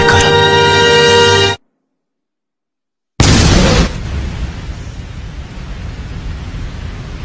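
An anime Miniature Rose bomb detonates in a loud, roaring blast after a sudden cut to silence, the noisy burst decaying into a long, hissing rumble that fills the rest of the scene.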